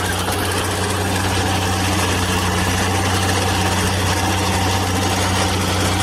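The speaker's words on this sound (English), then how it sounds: "So we'll run the diesel at that same speed" A 1950s diesel engine idles with no load at a steady speed, a loud continuous low hum and rumble with constant vibration throughout and no voices.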